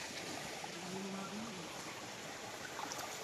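A small, clear-watered river flows along a forest trail, a soft, steady wash of water with faint trickling, heard close but quiet and uninterrupted.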